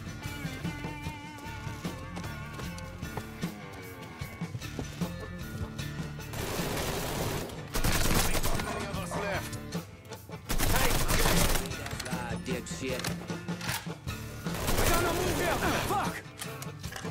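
Gunfire in Mafia 3 comes as repeated bursts of shots and loud roaring volleys under frequent talk, set against continuous game sound.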